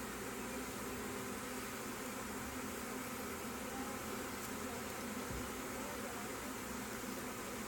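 A honey bee swarm clustered in a clump fans and buzzes, a steady, faint, dense drone that holds unchanged throughout.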